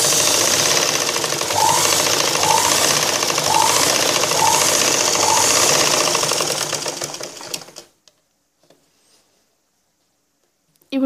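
A sewing machine stitches a blouse with a fast, steady mechanical chatter, close and continuous for several seconds, then stops, leaving near silence.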